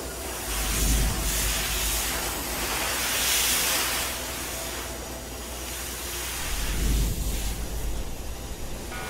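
Steam hissing under unstable pressure in a Resident Evil / Alan Wake game scene, a broad continuous hiss that surges loudly in bursts near the start, middle and end, heard alone without speech.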